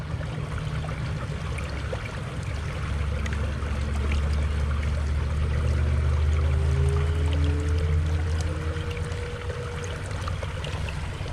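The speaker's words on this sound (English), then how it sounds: "This is how you pan for gold." Water sloshing and swirling in a gold pan held in Cajon Creek, California, a steady close wash over the running creek's constant rush, with soft low tonal drifts, no talking.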